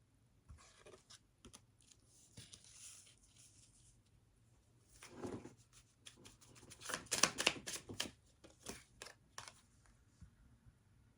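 A deck of cards is shuffled close by, with quiet scattered flicks building to a dense burst of riffling and card slaps, then tapering off. No one speaks.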